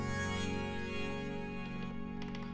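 Stream Sizzle, a layered synth patch on a Korg Modwave MK2, plays as a steady bright hiss over sustained tonal drones with a subtle pulsing texture, alone and moderately loud.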